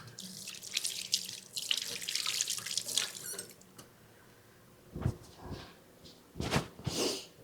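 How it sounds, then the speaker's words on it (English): A kitchen sink tap splashes as hands are rinsed while cooking a cheeseburger casserole, running in uneven bursts, busy at first, then pausing and starting again in short splashes near the close. "Let me rinse off my hands."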